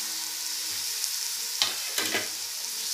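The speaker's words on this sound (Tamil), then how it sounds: "இது போட்டு கொஞ்சம் நல்லா வணங்கட்டும்" Ginger-garlic paste, green chillies and tomatoes sauté in hot oil for chicken dum biryani, giving a steady bright sizzle with a couple of brief stirring clatters near the middle.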